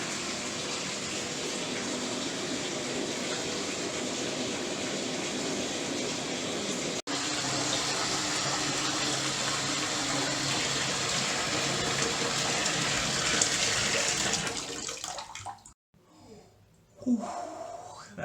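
Water gushes steadily into a bathtub as it fills, a loud, continuous roar close by for about fifteen seconds before it cuts off, followed by brief quieter sounds.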